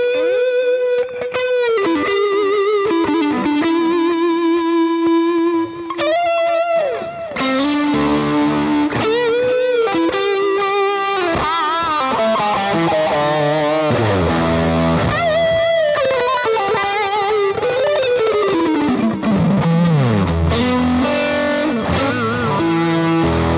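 An electric guitar runs through a pedalboard with distortion and delay, playing sustained melodic notes and bends that trail off in echoing repeats, loud and continuous with no talking.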